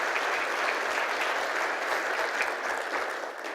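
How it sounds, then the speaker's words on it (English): A round of applause from the audience at a company town hall meeting, dense and steady clapping from many hands that holds at an even level and thins slightly near the end. "deserves one more round of applause"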